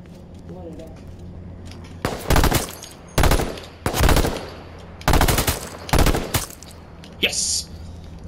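Gunfire in the H1Z1 game: five loud bursts of rapid shots over about six seconds, spaced irregularly over a low background hum, plus a shorter sharp report near the end.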